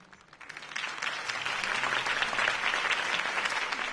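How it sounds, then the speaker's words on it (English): Loud, sustained applause from a large crowd, building quickly after a quiet start and holding steady as a dense wash of clapping. "could have heard that applause"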